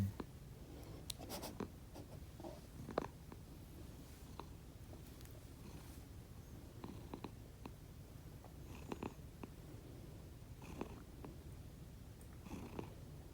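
Quiet, continuous snoring purr from a nearby cat, with faint rustling and scratchy noises scattered throughout.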